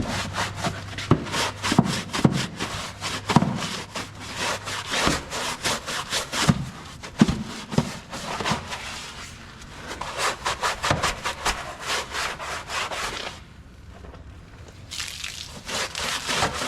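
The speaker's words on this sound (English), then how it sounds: "So I'm just going to simply scrub away and just give it a wipe down with a few rags." Brushes scrub the underbody of a 1998 Holden VT Commodore ahead of underbody coating. The scrubbing comes as rapid repeated rasping strokes in bursts, close and fairly loud, with a short pause near the end before it resumes.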